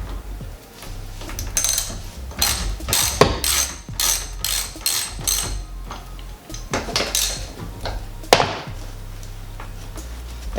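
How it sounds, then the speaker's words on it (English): A ratchet and socket back out pre-installed bolts on a racing simulator cockpit, sounding as rapid bursts of clicking pawl ratcheting with brief pauses and some metallic clatter, close and fairly loud. "So just use a ratchet and socket instead."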